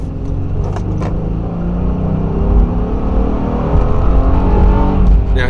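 A loud, nearly straight-piped Honda J35 V6 in a 2019/2020 Honda Pilot revs hard and climbs steadily in pitch, a raspy, crackling exhaust note building to a sharper howl as VTEC engages near the end.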